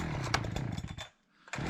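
A gasoline chainsaw of the Stihl 361/440 or Husqvarna kind runs steadily near a forest logging site in winter, then cuts out briefly into near silence before starting up again.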